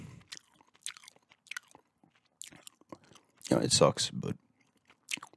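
Gum chewing close to the microphone in an ASMR setting: wet, irregular smacks and clicks, with a louder burst of chewing midway, between stretches of soft talk.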